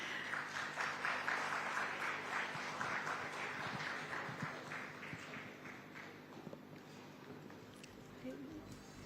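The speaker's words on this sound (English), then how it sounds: "please, if all of you could give a big round of applause for Rukmini Vasant" An audience at the India Today Conclave South applauds as a guest comes on stage, a moderate crowd of clapping that fades gradually and is followed by faint voices.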